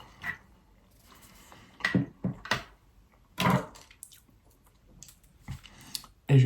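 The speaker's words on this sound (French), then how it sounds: "Faut bien mâcher." Soft, wet chewing of sticky gummy candies, with squishy bites and smacking bursts spaced out between quieter pauses, close and without speech.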